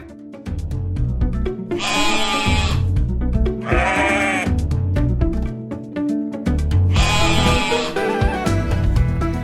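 A flock of sheep being driven south bleats repeatedly and loudly, overlapping calls rising and falling close by over a steady murmur of the herd.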